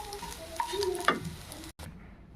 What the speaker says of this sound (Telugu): చింతకాయ తయారు చేసి పెట్టుకున్న పేస్ట్ వేసుకొని కలుపుకోవాలి